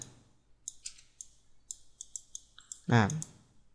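Several crisp computer mouse clicks in quick uneven bursts while click-dragging to select objects in editing software, close and quiet, with a short burst of speech near the end.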